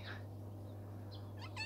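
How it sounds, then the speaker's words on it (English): A Turkish Angora cat gives a few short, faint meows, one near the start and a couple of higher, wavering ones at the end, over a steady low electrical hum. "these are my Turkish Angoras. They are a special breed of cats."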